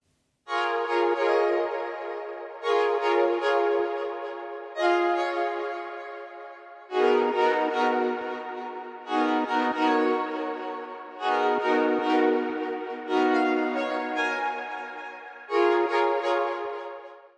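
Phuturetone GR-8 synthesizer preset "Mars Rover" playing a series of bright, buzzy sustained chords, each swelling and fading in turn, with short gaps between them.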